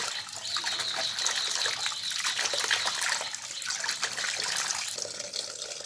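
Pumpkin leaf greens washed by hand in water, a steady sloshing and splashing close by that continues throughout with no voice.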